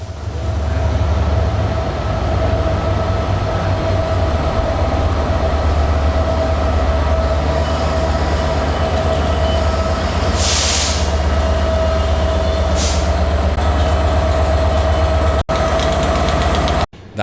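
A departing passenger train service running from Cardiff to Holyhead rumbles steadily and loudly for the whole stretch, a constant engine drone with rolling wheel noise and brief higher squeals near the middle.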